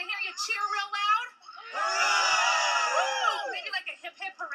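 Audience at an award ceremony breaking into loud cheering and whooping for about two seconds, with a voice speaking before and after.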